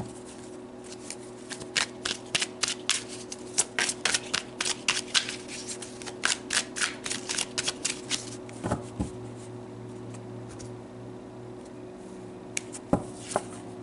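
Tarot cards being shuffled by hand, a long run of quick crisp riffling flicks at close range over a steady faint background hum, followed by a couple of isolated card snaps.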